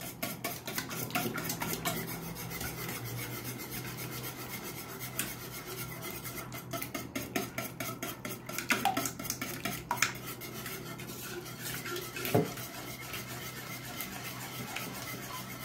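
Eggs and sour cream are stirred in a bowl for lazy lavash achma, a steady run of scraping, clinking utensil strokes against the dish with a few sharper knocks, close and alone without talk.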